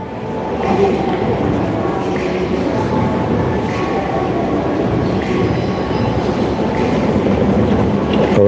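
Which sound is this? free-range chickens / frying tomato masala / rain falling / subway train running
subway train running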